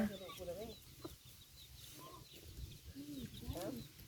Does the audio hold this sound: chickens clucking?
yes